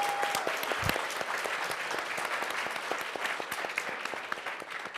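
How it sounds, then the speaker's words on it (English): Event staff receive a sustained round of applause from a large crowd at a community conference welcome session, dense steady clapping filling the room for the whole stretch with no talking. "So just a round of applause for all of you"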